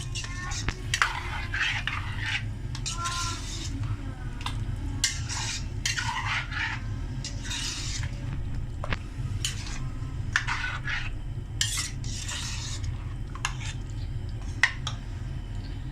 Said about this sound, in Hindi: अब आप इसको अच्छी तरह से फ्राई करें 10 मिनट तक।